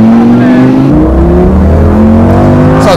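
A Lamborghini Gallardo engine accelerates hard from a standstill, its loud rising drone climbing steadily in pitch through the revs, close and continuous.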